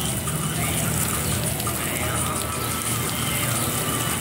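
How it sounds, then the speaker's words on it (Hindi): Water poured from a container onto cucumber plants growing in soil at a home garden, a steady broad splashing and trickling wash that runs close and continuous throughout. "पानी डाल रहा है"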